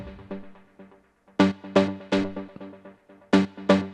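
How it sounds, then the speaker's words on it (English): Detroit techno synth stabs layered over a house piano part: short chordal hits in an uneven rhythm, with a bright attack and quick decay, clear and alone with no talk. "but basically like a Detroit techno stab"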